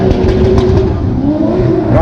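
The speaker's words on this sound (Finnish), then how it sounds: "Raikkaasti M50 kyllä laulaa ja hienosti pysytään isos kulmas." A BMW M50 engine revs hard and steady at a drifting demonstration, its harsh wavering note rising and falling close by with a rough clattering edge.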